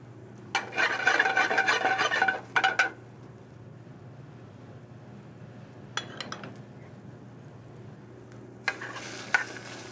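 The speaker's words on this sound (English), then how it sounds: "Shallots are softened in butter." Shallots softening in butter in a pan, heard as bursts of stirring and sizzling around a steady low hum, with quieter stretches between the active moments.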